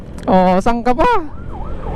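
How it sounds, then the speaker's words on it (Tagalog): A siren wails briefly in the background at a motorcycle event finish as a person speaks over it, the rising and falling tone emerging clearly once the talking stops. "May kasama pang wangwang."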